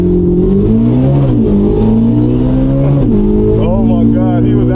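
A Chevrolet Corvette C8 Z06 launching under launch control, its engine roaring loudly and climbing in pitch through quick gear shifts, with a person talking over it.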